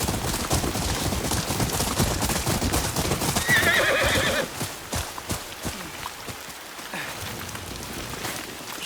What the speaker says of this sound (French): Et mes chevaux.